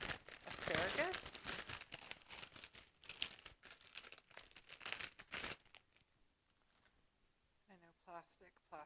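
Plastic packaging around a bunch of asparagus crinkles and tears close by at a loud level for about five seconds, then fades to near quiet while a voice speaks briefly.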